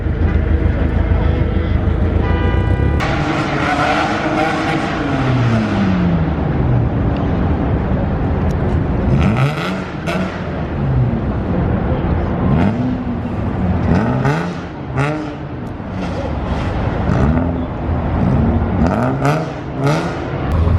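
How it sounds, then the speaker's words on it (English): Car engines revving at a Tokyo parking-lot car meet, several rising and falling revs from nearby cars over a steady background drone, with repeated throttle blips in the second half. "As I say that, someone starts revving."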